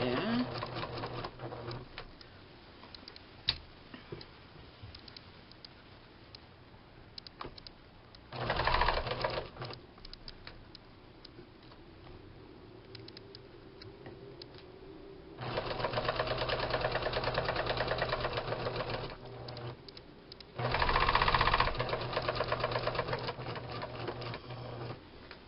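Domestic sewing machine stitching fabric for a small Easter basket, running in several bursts of a few seconds each, close and fairly loud, with quiet talking in the pauses between runs.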